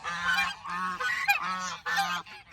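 Several geese honk in repeated nasal bursts, four or five calls in quick succession at moderate distance, with no voices over them.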